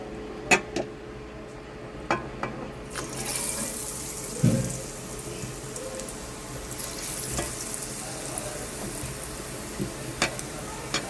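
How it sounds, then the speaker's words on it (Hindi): Potato and onion pakoras deep frying in oil give off a continuous crackling sizzle that swells after a few seconds, broken by occasional sharp taps and clinks of utensils. "अब हम इसको दोबारा डिप करते हैं और दोबारा से फ्राई करेंगे"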